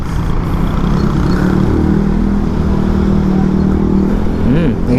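A Honda Beat scooter engine runs steadily after a CVT cleaning, giving a continuous low, even hum with a faint rising whine near the end.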